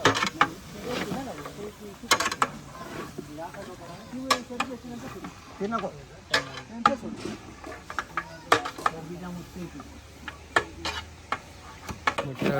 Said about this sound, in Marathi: सर्व बाजूने ढवळून घेतलंय जेणेकरून ती फोडणी पूर्ण त्याच्यात मुरली पाहिजे.